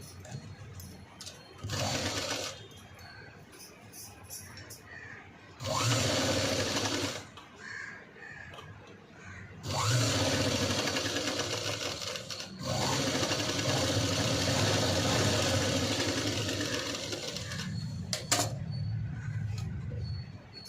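A sewing machine stitches the front neck of a blouse in several bursts of rapid whirring, each run lasting a few seconds with quiet pauses between, close and clear, with crows cawing faintly in the background.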